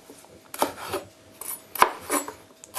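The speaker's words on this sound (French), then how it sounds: "on va détailler ce poivron en morceaux relativement grossiers" Knife chopping a bell pepper into coarse pieces on a cutting board: about five sharp, close chops spaced irregularly, with quiet scraping between them and no talking.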